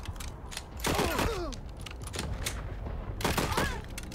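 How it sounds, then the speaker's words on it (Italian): Enemy gunfire in the Wasteland 3 video game: bursts of shots around one second and again near three and a half seconds, with ricocheting whines and mechanical clatter in a busy combat mix. "il nemico ci spara, ci massacra"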